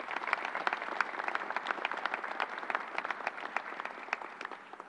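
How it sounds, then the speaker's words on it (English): Audience round of applause at a COVID-19 mass vaccination site inside a convention center, steady many-handed clapping at moderate distance, fairly quiet and continuous, with no talk over it. "Let's give him a round of applause."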